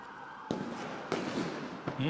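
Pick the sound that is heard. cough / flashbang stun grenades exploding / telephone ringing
flashbang stun grenades exploding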